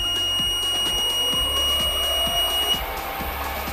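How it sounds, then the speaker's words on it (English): Buzzer on a Sieg SX3 milling machine, a thin steady electronic tone sustained over a rhythmic low mechanical ticking from the running machine, fairly quiet and close. "This is the buzzer that I don't like."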